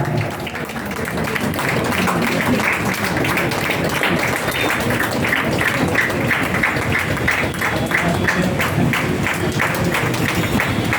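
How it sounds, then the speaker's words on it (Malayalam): Audience applause fills a student certificate award ceremony, a dense, steady wash of many hands clapping at close range for about eleven seconds without letting up. "നല്ലൊരു കയ്യടി കൊടുക്കാം."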